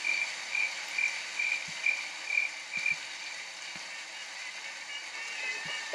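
Rhythmic cricket chirps in short repeated bursts over a steady insect hum, fading after a few seconds into a continuous chirring drone.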